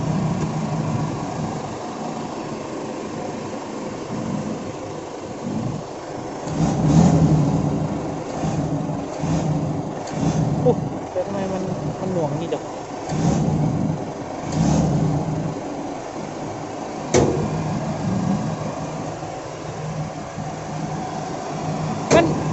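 A remapped common-rail diesel pickup engine revs in repeated surges over a steady rumbling idle, loud and close, with occasional faint talk in the background.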